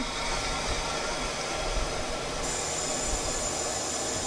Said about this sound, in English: there'll no longer be any sound of water going into the bladder